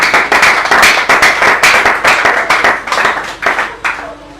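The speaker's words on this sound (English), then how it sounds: "let's give the Lord a clap of praise." A church congregation claps together in praise, a loud run of fairly quick, rhythmic hand claps that fills the whole stretch before easing off near the end.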